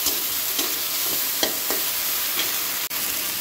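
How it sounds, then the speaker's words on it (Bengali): Potatoes fry in hot mustard oil with popping mustard seeds, a close, continuous sizzle with a few sharper stirring scrapes and crackles, no talk. "সেই ভাজা তেলের মধ্যে কিন্তু আমি সরিষা ফোড়ন দিয়ে আলুগুলোকে ছেড়ে দিয়েছি।"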